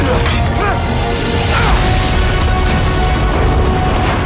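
A bridge explosion in the Spider-Man: Miles Morales video game: a loud, sustained roaring rumble with crashing and debris noise that fills the whole stretch without letting up.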